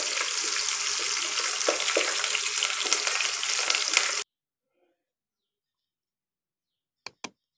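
Chopped green chillies and onions fry in hot oil, with spices already in the pan, for a simple khichdi rice. A loud, steady sizzle cuts off abruptly partway through, followed by silence and two brief clicks.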